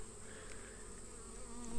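Honey bees swarm and buzz around a full, heavy frame of capped honey lifted from a healthy hive, a close, continuous, steady hum with no voices.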